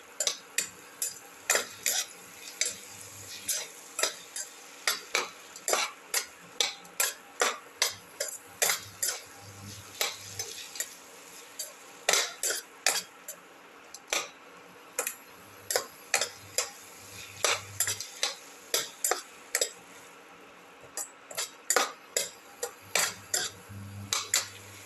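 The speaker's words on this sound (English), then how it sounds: "Thoroughly mix." A spoon stirs and mixes potato and tomato soup in a pot, tapping and scraping in a steady, repeated rhythm for a long stretch, close and moderately loud, with no voices.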